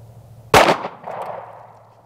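A single sharp pistol shot from a tiny Ruger LCP firing G2 RIP .380 ammunition cracks loudly, followed by a short ringing decay in an otherwise quiet setting.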